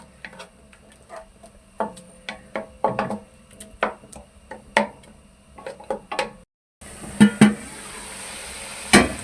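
Spice masala fries in a pan, marked by irregular clinks and knocks of a spoon against the pan, then a louder frying hiss toward the end.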